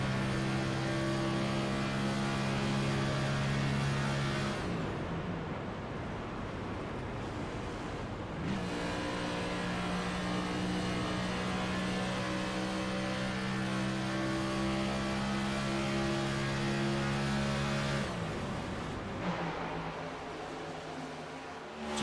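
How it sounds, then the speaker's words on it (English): A Next Gen Cup race car engine drones with a steady harmonic whine at Charlotte, then briefly drops away twice as the driver shuts it off and coasts on the clutch, the roar returning each time at close range. "So you hear the car getting shut off there by Combs"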